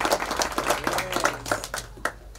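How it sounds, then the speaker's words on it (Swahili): An audience claps at a public education address in Kenya. Scattered, uneven claps patter for a couple of seconds, and voices are mixed in underneath. "Ebu mpigieni makofi."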